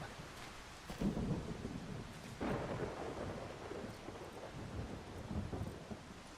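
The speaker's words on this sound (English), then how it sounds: "It sounds like it's lightning." A thunderstorm in the video game Solarpunk rumbles under steady rain on surfaces, with low thunder swelling and rolling through the downpour.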